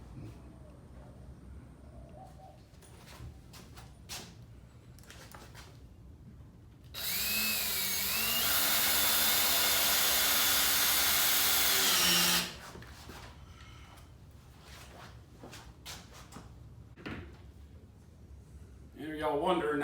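A power drill drives a 2.5-inch screw into a wooden camper frame outdoors, one loud whirring burst of several seconds with a rising and falling pitch, surrounded by quieter clatter, birdsong and faint ambient noise.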